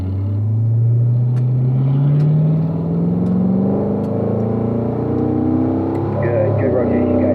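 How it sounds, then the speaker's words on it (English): A Corvette accelerating down the straight of the East track at Spring Mountain during a driving school: a loud, steady engine drone rising smoothly in pitch from inside the car, with a voice talking over it. "Let's start to accelerate here"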